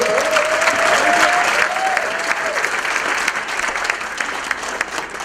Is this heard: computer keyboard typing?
no